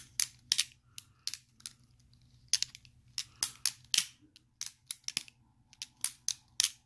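Microtech Tachyon 3 knife flipped open and shut over and over, giving sharp, crisp metallic clacks, often in quick pairs, close and loud, separated by brief quiet gaps, with no voices.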